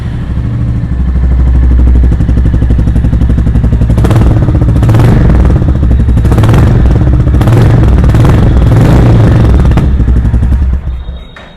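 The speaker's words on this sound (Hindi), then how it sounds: "आप एक बार दोनों ही बाइक्स को स्टार्ट करते हैं और आपको साउंड सुनवाते हैं।" A Royal Enfield Classic 350 motorcycle engine starts and runs loud and close, with a steady thumping idle broken by several sharp throttle blips and revs, then cuts off near the end.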